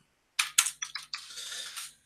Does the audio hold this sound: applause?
no